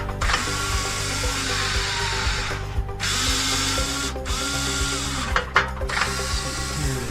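Electric parking brake motors on a Porsche Cayenne 958 running during calibration, a steady grinding, whirring mechanical drone with ratchet-like clicks and brief pauses, close and loud.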